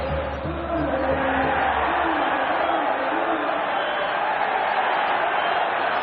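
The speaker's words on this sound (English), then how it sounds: "Crowd wanting a free kick against Busquets." Football stadium crowd at an El Clasico match, a dense, continuous roar of many voices at steady loudness with rising swells, heard under a commentator's voice.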